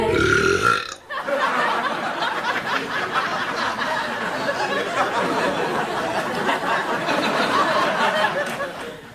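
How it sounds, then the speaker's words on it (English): A cat burps on a late-night talk show, mixed into a dense, continuous wash of studio audience laughter and chatter that runs loud for the whole stretch. "Nothing funnier than cats burping."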